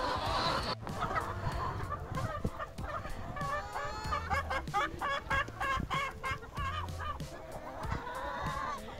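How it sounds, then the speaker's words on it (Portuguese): More than 100 chickens on a farm cluck and squawk nearby, overlapping calls in a busy, continuous chorus with no talking. "São mais de 100 galinhas"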